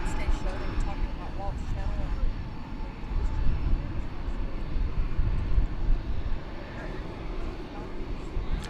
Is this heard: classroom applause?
no